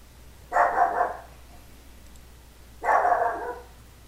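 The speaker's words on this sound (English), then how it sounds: "excuse the dog barking" A dog indoors gives two muffled, fairly distant barks about two seconds apart over a faint background hum.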